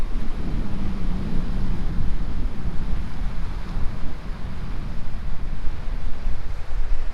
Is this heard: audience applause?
no